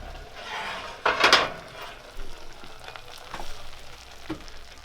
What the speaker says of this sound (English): Swiss chard from our garden and beets cooking together